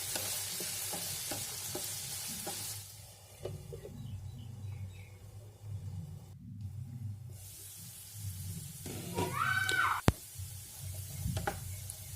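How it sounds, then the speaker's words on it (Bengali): Potatoes fry in a pan with a soft, steady sizzle while a spatula stirs now and then, giving occasional taps and scrapes and one sharp clink near the end. "দেখুন আমি মাঝে মাঝে আলুটা একটু নাড়াচাড়া করে নিচ্ছি"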